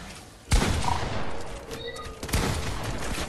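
Shots from a purple gun in a video game, one loud crack at the start followed by a rattling, echoing fusillade and a second blast, all fairly faint in the mix.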